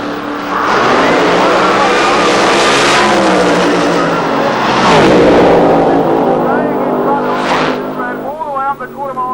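A loud Pro Mod drag racing car engine roars and revs at Santa Pod Raceway in 1990, pitch climbing and dropping through gear shifts as it edges forward and runs the quarter mile, with a commentator talking over it.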